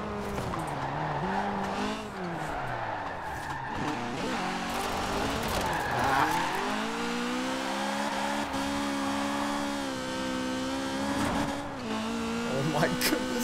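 Ford GT70 race car in Forza Horizon 4 revving hard and rising through the gears with tire squeal, loud and continuous, while someone talks over it.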